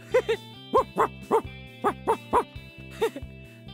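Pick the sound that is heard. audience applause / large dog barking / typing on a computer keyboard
large dog barking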